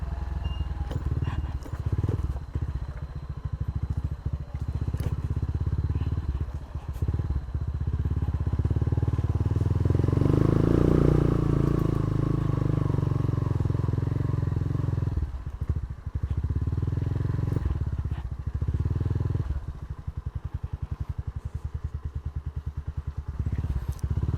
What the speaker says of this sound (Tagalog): ito yung motor natin, kayang-kaya pa dito.